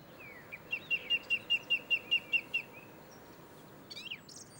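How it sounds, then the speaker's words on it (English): Song thrushes sing in an open British park, a rapid run of about ten evenly spaced, repeated clear whistled notes at moderate distance, followed by a short pause and a brief higher chirping phrase over quiet background hum. "2 of our very common song thrushes"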